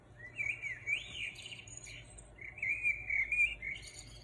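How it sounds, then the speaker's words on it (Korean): Small birds chirp and trill in repeated bursts, fairly faint, over a soft background of insect hum. "새들이 모여서 노래를 시작하지요"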